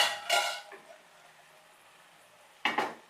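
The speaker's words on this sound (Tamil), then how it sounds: "இப்போ இதை மிக்ஸ் பண்ணிவிட்டு இதையும் ஒரு 5 நிமிஷம் மூடி வச்சிடலாங்க" A spoon scrapes and clinks against a pan while chicken masala gravy is stirred, two short bursts of metallic scraping separated by quiet, close and fairly soft.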